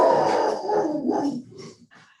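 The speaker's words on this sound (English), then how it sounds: "So I'll just get my dog." A rescue dog barks and growls close by indoors in a rough, rapid burst that tapers into a few softer yips.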